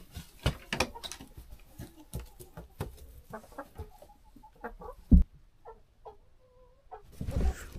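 Chickens cluck and squawk close by in a rural yard, with short irregular bursts of clucking, scratching and a few louder calls.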